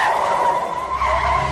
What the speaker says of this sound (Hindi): ए जयंत, जयंत रोक रोक रोक रोक रोक, अबे गाड़ी रोक, जल्दी रोक।